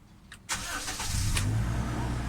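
A Toyota Innova engine cranks briefly with a couple of clicks, then catches and settles into a steady, close rumbling idle.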